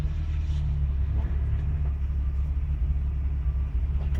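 A 1986 4.2-liter 258 inline-six in a 1984 Jeep CJ-8 Scrambler idles steadily, a deep low rumble with an even throb, close and continuous with no voices.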